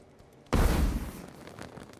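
A firework bursts in a video game quest built with logic gates: one sudden loud blast with a crackling tail that fades over about a second and a half, heard alone.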